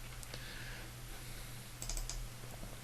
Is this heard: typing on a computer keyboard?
yes